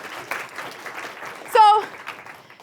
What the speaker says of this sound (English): Round of applause for our student body president.